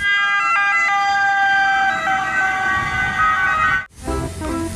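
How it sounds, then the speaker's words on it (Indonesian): A toy ambulance siren wails loudly in a steady electronic two-tone pattern, close up, then cuts off briefly near the end before resuming. "Ada mobil ambulans."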